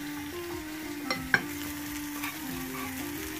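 Food frying in a pan on a home stove, a steady close sizzle with a brief sharp clink of a utensil and faint stirring, no one talking.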